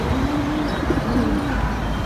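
Pigeons in a backyard loft coo in two low, drawn-out calls over a loud, steady wash of background noise.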